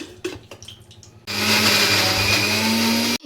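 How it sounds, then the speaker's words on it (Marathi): Tomato, coconut and ground peanut are blitzed in a kitchen mixer grinder, starting with a few knocks and clatters, then a loud, steady motor whine for about two seconds that cuts off abruptly. "हे सगळं थोडं थोडं करून एकत्र वाटून घ्यायचं आहे."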